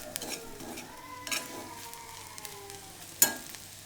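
Ivy gourd (kovakkai) fries in a pan, a soft sizzle under brief stirring scrapes and clinks of a utensil, with one sharp metallic tap near the end.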